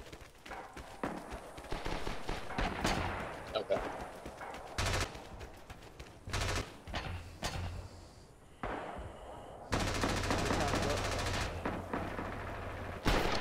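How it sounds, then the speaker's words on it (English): Machine gun fire in a multiplayer shooter game, a mix of rapid bursts and single shots close and farther off, with some talk over it. "I hear an MG on the right side"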